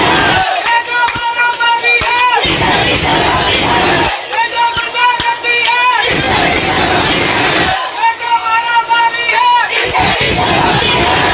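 Crowd at a rally for Nawaz Sharif's daughter chants slogans in loud, rhythmic bursts, with massed voices surging and pausing in repeated waves close by.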